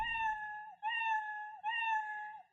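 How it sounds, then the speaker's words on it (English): A cartoon cat's meow sound effect from a block-based programming program plays three times in a row, bright and tonal, each meow sliding slightly at its end. "my cat glides and meows at the same time"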